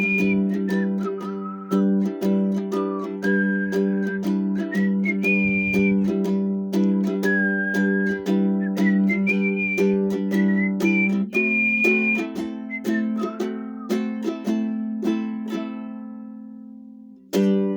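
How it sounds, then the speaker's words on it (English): A person whistles a melody over steady ukulele strumming. The whistled tune runs clearly and continuously above the chords, close and fairly loud, and stops just before the strumming ends. "Great song to whistle along to as well."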